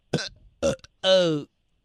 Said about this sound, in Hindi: डकार हमारे मुंह पे करेगा